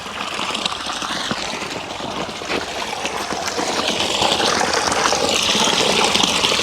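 A column of water from a garden pond fountain pours steadily down onto an underwater light, a loud, continuous splashing rush that swells slightly toward the end.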